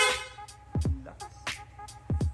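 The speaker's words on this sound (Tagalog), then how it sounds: "Tapos, rapid horn." A PIAA rapid horn fitted to a motorcycle alongside mini driving lights gives several short, sharp honks in quick bursts, loud and close, with brief gaps between blasts.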